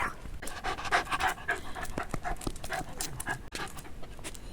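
A small dog pants rapidly and excitedly close by, quick breathy bursts in a steady rhythm with a few faint clacks in the background.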